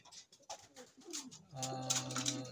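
A racing pigeon named Cookie sits at the loft trap and gives a close, sustained coo that swells in the second half, after a few softer sounds at the start.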